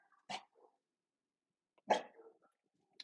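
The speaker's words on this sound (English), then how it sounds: "Apologize for my dog getting triggered over here by the other dog." A dog reacting to another dog gives two short, sharp huffing barks or snorts about a second and a half apart, close and moderately loud with silence between.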